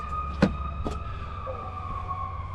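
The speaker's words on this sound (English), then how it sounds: "sirens out here" Distant emergency sirens wail faintly in the background along a long-distance Amtrak train route, a steady tone under a couple of short sharp knocks nearby.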